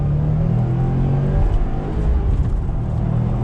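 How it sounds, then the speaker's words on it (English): A 2020 Subaru WRX STI pulls hard in second gear on throttle, its engine rising in a steady, loud, close rumble that builds throughout with no talking. "I want to do a slow roll here. 23 in second gear on throttle."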